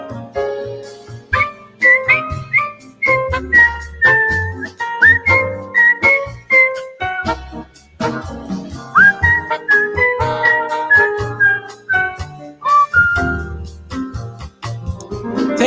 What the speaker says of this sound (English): I gotta get my whistle ready here.